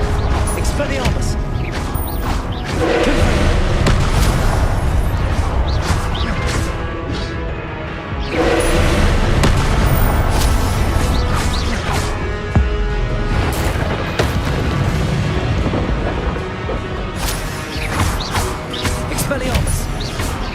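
Repeated spell impacts with smashing, booming hits in Hogwarts Legacy combat, loud and dense over busy game sound with a voice calling out between blasts.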